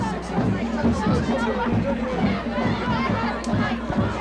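A high school football crowd files out of the stands after a game, a steady hubbub of distant chatter and shuffling with scattered voices and rhythmic thumps throughout.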